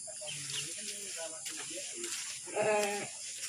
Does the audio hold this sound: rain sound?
no